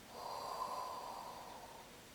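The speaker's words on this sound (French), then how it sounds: "expire, on souffle" A long, steady exhale blown out through the mouth during a Pilates warm-up exercise, a soft airy rush lasting about two seconds at close range, with no talk over it.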